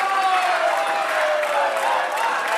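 Spectators at a men's 10m air rifle shooting World Cup final in Bhopal, India cheer and applaud in a steady, loud crowd roar with clapping and whistling tones throughout.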